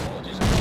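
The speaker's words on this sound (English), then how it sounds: "Grenade!" Grenade explosion in Rogue Trooper: after a brief quieter moment, a loud, sudden broadband boom erupts and sustains to the end, close and heavy.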